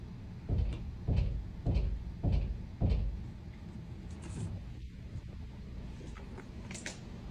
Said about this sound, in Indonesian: Penasaran, ia menghampiri dan membuka lemari tersebut.